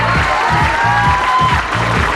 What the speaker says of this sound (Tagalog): Para po kay Jenny, palakpak at tatayo tayo.